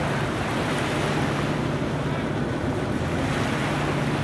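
Waves wash onto a beach at Fort Lauderdale under steady wind rushing across the microphone, a constant loud roar with no talking.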